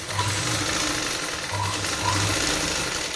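A sewing machine runs steadily while stitching the sleeve of a katori blouse, giving a close, even mechanical rattle with slight pulses and no pauses.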